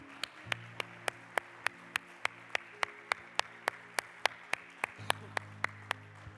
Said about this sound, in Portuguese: Aplauda Jesus bem forte nessa noite.